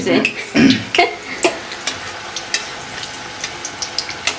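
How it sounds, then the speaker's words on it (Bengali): Malpua batter fries in oil that is not yet fully hot, giving a low, uneven crackle broken by sharp clicks and clatters of a utensil against the pan, close by and moderately loud. "এইখানটা ফ্রাই হচ্ছে"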